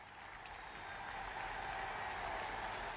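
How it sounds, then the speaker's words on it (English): Crowd at a boxing match in King's Hall, Belfast, on their feet cheering wildly, a dense, steady roar of voices and clapping that swells slightly and holds without pause. "People stand up and cheer themselves wild at King's Hall."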